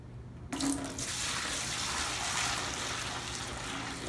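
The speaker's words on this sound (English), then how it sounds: "I'm going to pour it over into my smaller buckets" Milky homemade laundry detergent is poured from a large container into smaller buckets: a steady gush of liquid starts abruptly after a brief silence and keeps splashing evenly.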